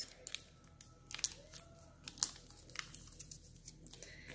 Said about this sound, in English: Then I fold over the excess.